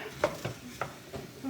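Butter and apples sizzling gently in a pan, a soft steady frying hiss broken by a few light stirring clinks and scrapes, close by and fairly quiet.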